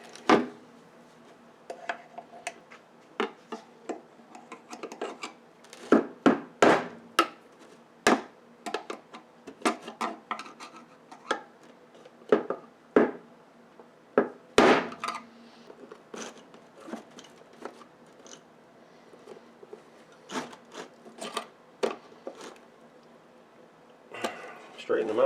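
Metal tabs on a Minerva PortaPal 729 portable radio cabinet are bent and worked with pliers, giving irregular sharp clicks, taps and scraping clanks spread across the span, close by and under occasional talk.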